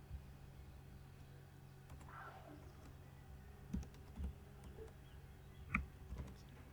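Scattered soft keystrokes tap at an irregular pace on a computer keyboard while a password is typed, quiet and close against a faint steady hum.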